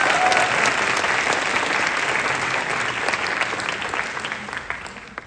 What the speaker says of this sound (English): everybody please give a big applause for Gideon's presentation